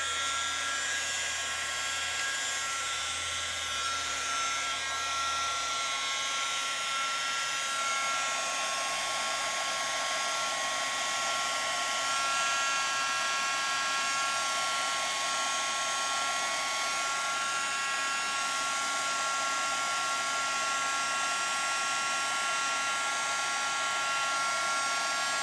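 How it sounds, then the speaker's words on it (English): Electric heat tool blowing hot air for rolled paper flower crafting, a steady loud broadband whoosh with a high whine running continuously throughout, no talking. "I'm gonna turn on the heat. So it's gonna be a little bit noisy"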